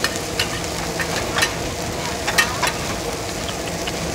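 Mussels crackle and sizzle in hot oil at a Surin night market stall, a steady close frying hiss with occasional louder pops and stirring scrapes.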